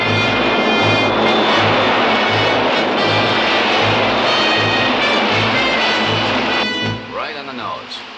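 A small aircraft's engine drones loudly and steadily as the plane flies in to land, a dense continuous roar with voices talking over it near the end.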